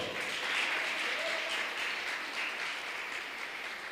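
A church congregation applauds together during a sermon, a steady wash of many hands clapping at moderate distance that fades slightly toward the end.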